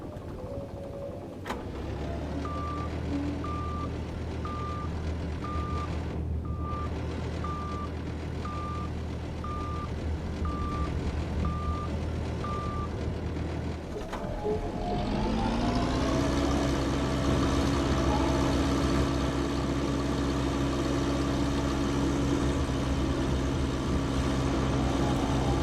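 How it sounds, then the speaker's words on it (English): In the video game The Last Caretaker, a vehicle engine with glitching sound hums steadily under evenly spaced reversing beeps, then shifts abruptly to a louder, higher drone once the beeping stops. "there's a glitch with the engine noise"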